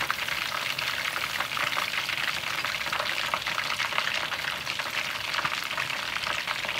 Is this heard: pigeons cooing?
no